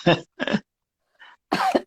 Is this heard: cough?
yes